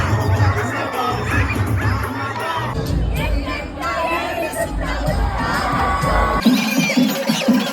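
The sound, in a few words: crowd cheering at an RCB cricket match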